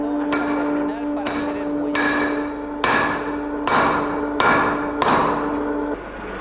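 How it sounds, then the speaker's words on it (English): A steel bar is hammered into a spring at a clockmaker's forge: about seven sharp, ringing metal blows fall at a steady, unhurried pace over a constant low hum. "forging steel with hammer blows"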